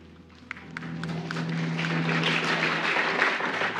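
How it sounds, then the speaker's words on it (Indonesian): Church congregation applauding during a pastor's sermon, a dense, steady clatter of many hands that swells after a sharp opening clap and holds through to the end. "Siapa suruh tepuk tangan?"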